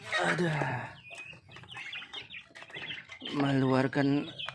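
Turkeys gobble and cluck loudly nearby in short warbling bursts, with a voice talking over them.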